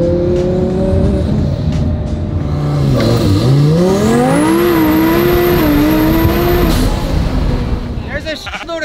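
A race car with an unloaded chassis revs hard through low gears, the engine note climbing and dipping in long loud sweeps before easing off near the end, with tire noise and talk mixed in.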